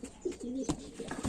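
A pigeon coos in soft, low repeated phrases close by, several short hoots with a faint rustle between them and no talking.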